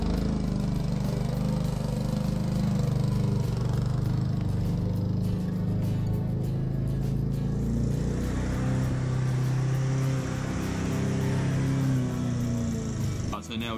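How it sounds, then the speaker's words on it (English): A cylinder lawn mower runs steadily close by while cutting a lawn right down low to the dirt, giving a continuous mid-pitched engine drone with a whirring reel, with no pause throughout. "I'm going to take it as low as I can with the cylinder mower"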